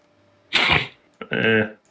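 Two quick bursts of human sneezing, the first a breathy explosive puff and the second a sharper voiced sneeze, close and fairly loud in a quiet room.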